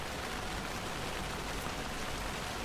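Steady rain makes a soft, even hiss, close and unbroken, with no voices over it.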